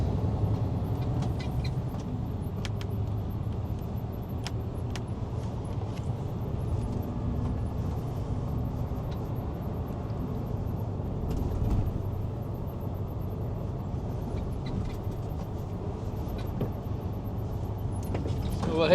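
A milk tanker lorry with an automatic gearbox drives along a rural road, its steady low engine drone and road rumble continuing throughout at moderate, unchanging level, close inside the cab.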